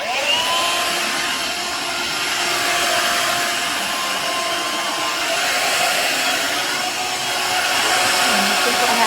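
A Shark SV1106 Navigator Freestyle cordless stick vacuum runs steadily with a loud, close, continuous high-pitched whine and airy rush that holds nearly unchanged throughout.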